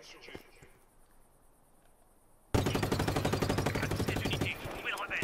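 Rapid automatic gunfire in the action video game Just Cause 3 erupts after a quiet stretch, a loud dense burst of shots continuing steadily to the end.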